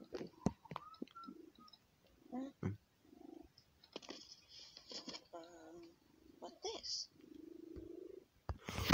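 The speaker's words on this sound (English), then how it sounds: "if my cat is purring in the mic, I will say it" Pet cat purring close to a microphone, soft rumbling stretches between intermittent clicks and a person talking.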